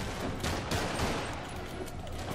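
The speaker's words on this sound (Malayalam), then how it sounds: "ഓ, ആരാണ് നമ്മളതേ വേറെ വെടിവെക്കുന്നത്?" Rapid bursts of gunfire ring out in Marvel's Spider-Man Remastered, a fusillade of overlapping shots crackling at moderate loudness for a couple of seconds with no talking.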